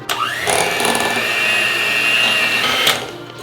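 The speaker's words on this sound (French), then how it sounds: "Mixeur arrive et on mélange" A hand blender whirs continuously as it mixes sugar and butter, starting up with a rising whine and holding a loud, close, steady motor drone with scraping against the bowl.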